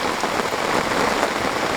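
Heavy rain pouring down at Lake Shumarinai campsite in Hokkaido, a dense, steady hiss of drops pattering on surfaces, loud and close with no talking.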